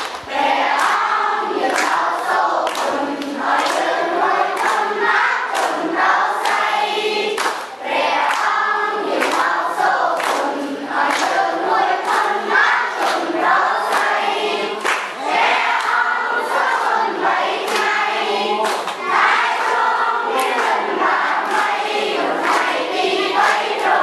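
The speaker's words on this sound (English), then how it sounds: "My heart was full as I watched the children wave and cheer as our van drove away" Cambodian orphanage children cheer and shout together as a van drives away, a loud, close, dense chorus of young voices that holds steady for the whole stretch with small bursts and dips.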